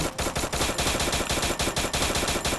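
Sustained rapid automatic gunfire in a shooting video game, aimed at a motorcycle, with loud, dense, evenly spaced shots continuing without a break.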